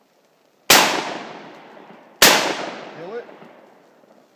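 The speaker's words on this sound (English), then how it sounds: "That's a pretty sweet sounding rifle, man." Two loud rifle shots, each a sharp close crack with a long fading echo, spaced about a second and a half apart, with a brief voice between them.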